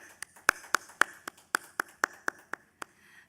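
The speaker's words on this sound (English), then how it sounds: "A big round of applause for sir." Sparse, crisp hand claps from a small audience after an academic conference talk, about a dozen separate claps spread unevenly over a few seconds with no continuous roar.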